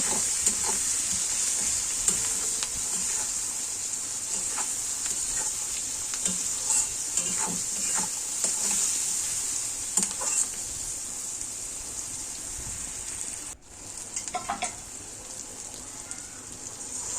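Ghugni masala fries in a pan with a constant close sizzle, broken by scattered scraping stirs and clinks of the spatula, and a short quieter dip before the frying resumes, no voices.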